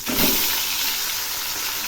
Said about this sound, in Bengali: এক পাশ ভাজা হয়েছে। এবার আমি উল্টে দিচ্ছি।